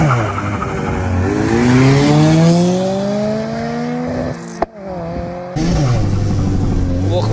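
A VAZ 2112 and an Infiniti G25 launch side by side in a drag race, loud engines revving high and rising through gears, a brief near-silent break, then roaring again; people talk nearby.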